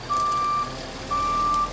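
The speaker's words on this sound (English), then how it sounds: "Here comes the cement truck." A cement truck backing up sounds two steady, loud electronic reversing beeps, each about half a second long, over a low engine rumble.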